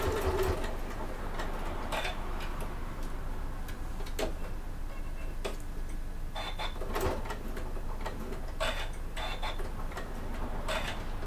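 Sewing machine topstitching a fabric bag, with short irregular bursts of stitching and ticking clicks spread across the stretch at close range.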